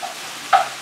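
Ground meat browning in a pan for breakfast egg muffins gives a faint steady sizzle, with a brief louder stir or scrape near the middle.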